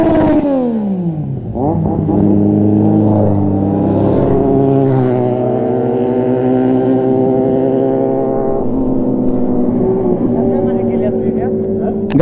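Several 1000cc motorcycles arrive and rev, their engine tones sweeping up and down loudly and close, with a sustained roar as they idle and accelerate while people talk over them.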